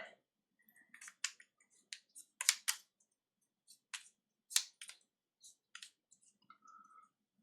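Game cards from a Kanban EV board game are shuffled by hand, producing a sparse series of faint, crisp riffles and snaps with quiet gaps between them.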